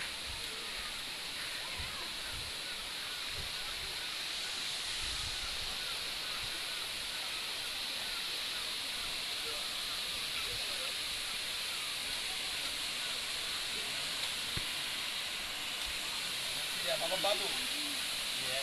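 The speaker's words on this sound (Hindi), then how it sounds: "अभी सामने वाटरफॉल है।" Steady, broadband rushing of a waterfall in Karbi Anglong, Assam, fills the scene, a constant hiss-like roar with faint bits of voice near the end.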